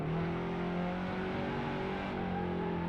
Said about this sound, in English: I'm sliding and I just went off track again.